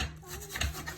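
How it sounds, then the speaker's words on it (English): Knife chopping through half of a big onion on a board, a few close, soft rasping cuts with light rhythmic knocks, no talking. "And then we're going to chop up the onion."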